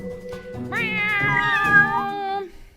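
A long, drawn-out meow with wavering pitch, loud and close, sounding like a person imitating a cat on air rather than a real animal, with no words spoken.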